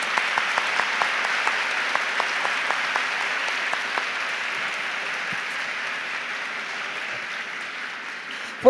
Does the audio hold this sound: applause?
yes